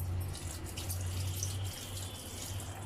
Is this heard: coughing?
no